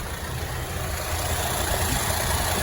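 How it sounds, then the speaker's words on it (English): BMW 320i GT engine idling with the air conditioning compressor running, a steady close rumble with a broad hiss above it, continuous and even throughout with no voices. "We start the engine, turn on the AC, the gauge not fluctuating anymore"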